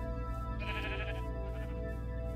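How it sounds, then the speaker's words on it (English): A sheep in a video game gives a single bleat over a steady humming game background with a looping rhythmic pulse underneath. "There's naked sheep."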